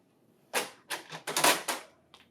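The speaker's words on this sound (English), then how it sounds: "Remove tray 1." Tray 1 is pulled out of a Lexmark-style CS943/CX94x laser printer, making a series of sharp plastic clacks and sliding rattles, close and fairly loud, with short pauses in between.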